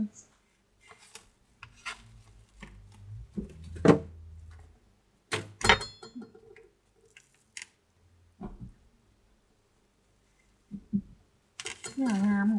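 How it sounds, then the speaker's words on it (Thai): Beef from the supermarket is sliced with a knife to make sun-dried beef, giving sparse quiet scraping and cutting sounds with a few louder knocks against a board or dish, spread across a mostly quiet stretch. "เดี๋ยวขอหั่นก่อนนะเจ้าเนาะ"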